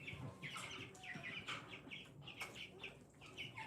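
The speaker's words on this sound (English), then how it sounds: "There are the chickens." Chickens cluck in quick, repeated bursts with chirpy calls, fairly faint and steady throughout, in a pen with fresh bedding.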